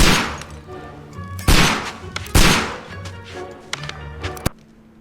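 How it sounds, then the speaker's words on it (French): Holmes fires a gun blindfolded in Crimes & Punishments: several loud, sharp gunshots at irregular intervals, each ringing out and decaying over a low indoor ambience, with a final crisp shot before quiet. "Il tire les yeux bandés."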